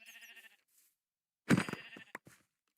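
Minecraft sheep bleating in a video game, a short wavering bleat followed after a pause by a louder, sharper second bleat with a few clicky in-game sounds trailing off, no voices.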